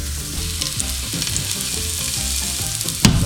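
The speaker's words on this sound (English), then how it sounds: "Nice contact sear." Fresh-caught tuna sears in a hot pan, a steady loud sizzle and crackle throughout, with a sharper hiss flaring up near the end as the fish is pressed down.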